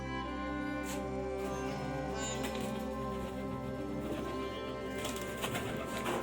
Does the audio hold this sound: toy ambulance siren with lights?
no